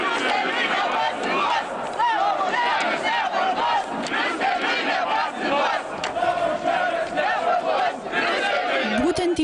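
A large crowd at a political rally in Lithuania chants slogans in loud rhythmic unison, with shouting and chatter mixed through the whole stretch.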